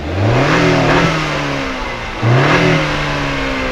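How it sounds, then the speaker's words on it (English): A 2021 Acura TLX A-Spec engine revs up twice, the exhaust note rising sharply each time before easing back, loud and close. "let's hear what those exhaust tips sound like"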